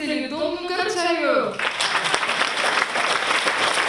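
Audience applause at a Mother's Day concert in a community cultural hall breaks out loud and dense after a voice speaks over the opening, then sustains as steady clapping to the end.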